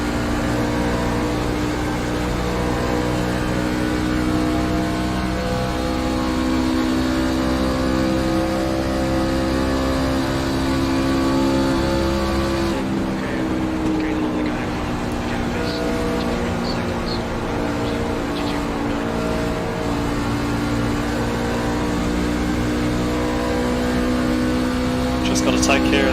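Race truck engine at Atlanta in the iRacing sim, a loud steady drone with layered harmonics holding near-constant revs, pitch shifting slightly midway, with a voice talking over it.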